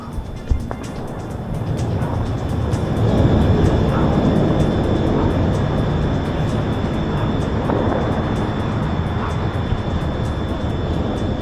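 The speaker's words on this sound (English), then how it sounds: "A commercial airplane was seen taking off amid smoke and explosions" A steady, loud jet engine roar of a commercial airliner taking off fills the scene, a broad rumbling drone that builds slightly and holds without pause.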